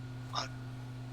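A single quick sneeze-like burst, brief and fairly soft, over a steady low electrical hum.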